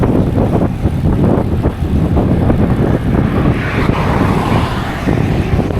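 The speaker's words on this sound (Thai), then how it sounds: "ลมแรงมากครับวันนี้ลม ลมแบบแรง" Strong wind buffets a cyclist riding with a team on a rural Thai road, a steady loud roar of wind on the microphone throughout with no talk.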